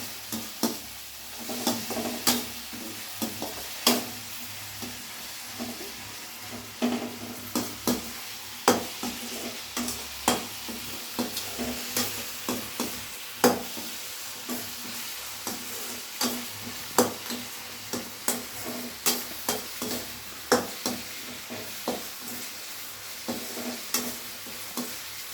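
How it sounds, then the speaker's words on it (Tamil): Turmeric powder sautéed in a pan for a Tamil-style mor kuzhambu: continuous oily sizzling with a steady stream of spoon scrapes and taps against the pan, up close and without talk. "இந்த மாதிரி நல்லா ஃபைனாக வதக்கணுங்க."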